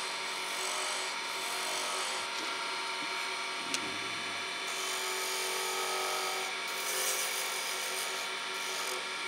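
A continuous whirring hiss of a Cholla cactus pen blank being finish-turned with a small tool on a spinning lathe, steady and close, with a brief knock partway through.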